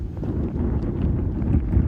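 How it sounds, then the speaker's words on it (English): Steady low rumbling wind buffeting the microphone on the Pacific Crest Trail as it turns cold, continuous and fairly loud throughout, with no voices. "ooh, it's getting cold and windy"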